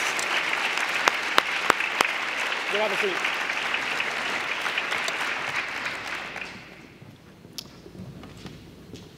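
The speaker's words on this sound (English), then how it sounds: "Please give one more round of applause for your Scholar Athlete Award winners." Sustained audience applause fills a high school awards ceremony for Scholar Athlete Award winners, loud and dense, then fades out over the last few seconds while a voice speaks briefly.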